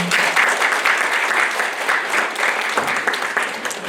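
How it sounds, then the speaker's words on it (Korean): The audience at the 7th Proud Washingtonian awards ceremony, a Korean community event, gives loud, warm, continuous applause that fills the hall without pause. "우리 한번 뜨거운 박수로 서로 환영하겠습니다"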